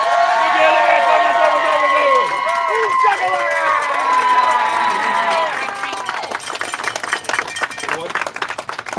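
A crowd cheers, whoops and applauds as a rowing team finishes an Atlantic ocean race, loud and continuous with voices shouting over it, the applause thinning into scattered claps toward the end.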